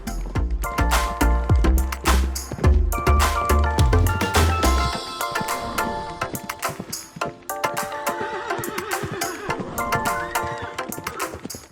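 Horses on the Mongolian steppe give repeated neighs and whinnies among other livestock calls, several loud cries in the first half followed by a busier, softer mix of animal sounds.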